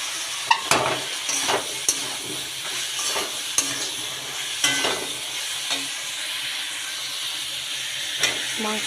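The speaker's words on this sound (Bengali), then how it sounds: "সব সময় একসাথে ভালো করে কষিয়ে নিই।" Pig trotters and green chilli are stir-fried in a pan, giving a steady sizzle and hiss broken by repeated scraping and knocking strokes of the spatula every second or so, with no talk.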